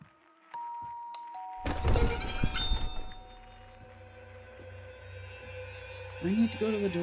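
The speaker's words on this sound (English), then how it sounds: "It sounded like the doorbell." Doorbell chimes inside a house in the horror video game Unmourned, a clear two-tone ding ringing out with a thud and lingering resonance over a quiet, eerie ambient drone, with another tonal sound near the end.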